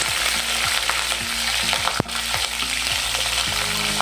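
Curry leaves and green chillies fry in oil with cumin in a pan for a prawn gravy, giving a loud, steady sizzle and crackle with a few scraping stirs of a spoon, and no voices.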